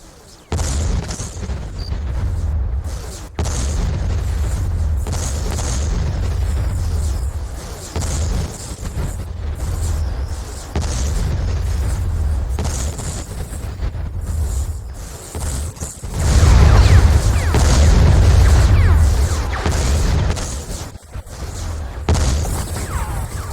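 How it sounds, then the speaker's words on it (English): Heavy booming explosions from a bombing run in the space strategy game Stargate Empire at War, repeated deep blasts rolling one after another with a louder cluster of impacts near the end. "I'm gonna bomb you to oblivion for that. Commence attack run."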